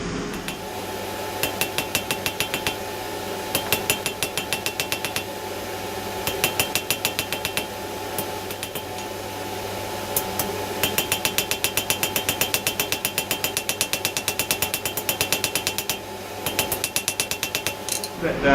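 A hammer forges a steel bar from octagonal to round on an anvil, striking in quick, rhythmic bursts of ringing metallic blows with short pauses between runs, over a steady background hum.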